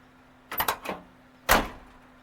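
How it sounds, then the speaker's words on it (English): A door on a 1984 Nissan 4x4 truck swings open with a couple of quick latch clicks and rattles, then slams shut with one solid thud, up close and with no voices. "Let's see how the door opens and closes now."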